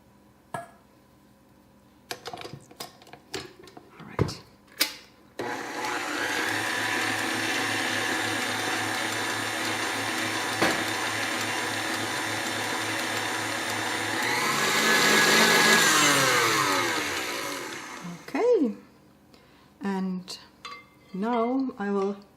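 An electric mixer whirs steadily as melted chocolate is beaten into batter for Sacher torte cake bites, its tone rising near the end. Clinks and bowl knocks come before and after the motor runs.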